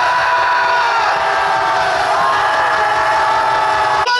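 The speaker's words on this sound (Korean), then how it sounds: "그래도 우리는 소리를 질러야 됩니다. 박수 질러!" A dense crowd at an outdoor patriotic rally in Gwanghwamun, Seoul, roars and cheers continuously, loud and sustained, with a brief break near the end.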